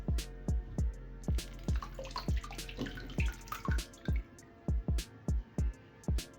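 Water splashes onto an Infinix HOT 50 Pro+ phone, patters in quick irregular bursts, with sharp drips and splats landing close by.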